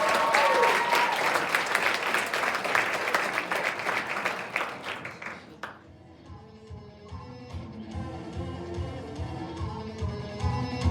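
Applause from an audience at a secondary-school talent show greets a dancer's performance, loud dense clapping for about five seconds that fades, then quiet music begins.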